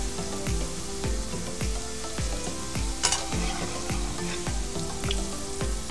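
Potatoes frying in hot oil for a Spanish omelette, with a steady sizzle and repeated stirring scrapes in a regular rhythm, close and fairly loud, no talking.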